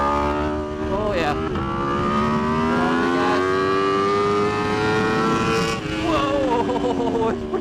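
An Aprilia RSV4 RF superbike on a track revs hard through rising gear pulls with sharp downshift blips between them, a loud, close, high-pitched engine wail.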